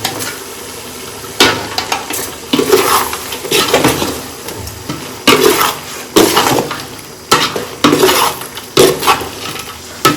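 A spoon stirs Chettinad country rooster varuval with curry leaves in a pan, making repeated close scrapes and clinks against the metal over a continuous sizzle, with no voices.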